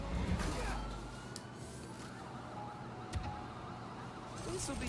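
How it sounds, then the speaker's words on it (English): Police sirens wail faintly in the distance of a city street in Spider-Man: Miles Morales, low under other game sounds and a voice. "I hear the police sirens"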